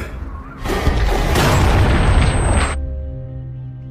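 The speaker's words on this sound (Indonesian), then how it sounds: "Dan saat Mr. Kuple memasuki rumah, Carter segera menembak Mr. Kuple." A shotgun blast in a film scene, one loud, close boom with a sharp onset and a roaring, reverberant body of about two seconds that cuts off abruptly into quiet.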